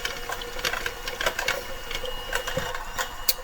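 An electric mixer whirs steadily while blending a homemade body butter with cornstarch, with faint clicks and rattles over a continuous mechanical hum lasting a few seconds.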